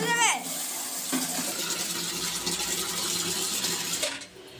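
Water is poured out on a balcony, making a steady, close gushing splash that lasts about four seconds and then cuts off.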